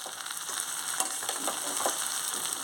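Brinjal curry with green chillies sizzles in a pan as a spoon stirs it from the bottom, a steady close frying hiss punctuated by soft scraping strokes, with no voices.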